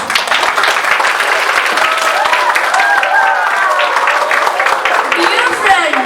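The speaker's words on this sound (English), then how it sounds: "I request you all to give them a big applause." A school assembly audience applauds steadily throughout, a dense wash of clapping with a few voices and cheers rising over it.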